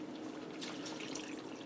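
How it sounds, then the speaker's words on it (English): Water pours into a skillet holding uncooked spaghetti, a soft steady splashing trickle heard close and alone. "I'm going to add in some more water"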